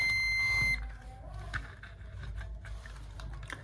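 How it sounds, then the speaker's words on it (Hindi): A circuit attached to a 7805 voltage regulator gives a short, steady electronic beep at the start, then falls to quiet room noise with faint clicks. "बीप साउंड आ रहा है"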